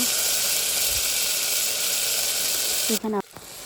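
Oil with coriander leaves sizzling inside a pressure cooker, a steady loud frying hiss that runs the whole time, then a brief clatter of a utensil near the end.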